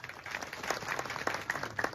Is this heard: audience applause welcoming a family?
yes